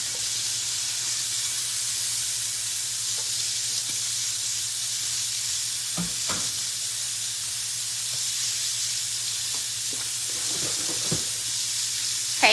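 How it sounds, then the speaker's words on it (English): Onions and peppers fry in a pan alongside shrimp, giving a constant loud sizzling hiss with occasional soft clinks and stirring, heard close and steady with no one speaking. "I'm going to go ahead and add in the onions and peppers"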